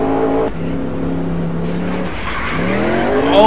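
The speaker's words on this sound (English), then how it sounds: "Oh, we got spun." A stock car in the NR2003 racing game with a 1969 USAC season setup, spinning out: a loud engine tone drops, then tires squeal and the engine revs back up, rising in pitch.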